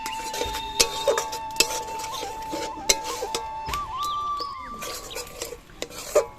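A spatula stirs and scrapes tomato, chili powder and spices sautéing in a pan, giving repeated sharp clinks and scrapes in an irregular rhythm over a soft sizzle, close and fairly quiet.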